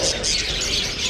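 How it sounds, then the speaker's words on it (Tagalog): Dense, high-pitched chirping from many lovebirds fills the space, a busy chattering chorus with no pauses. "Mga lovebirds."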